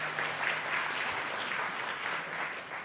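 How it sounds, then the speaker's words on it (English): Warm applause from an audience after a startup talk by a Peruvian CTO, a full, even wash of clapping, moderately loud and sustained, tapering slightly at the end. "Let's thank Eddy with a warm applause."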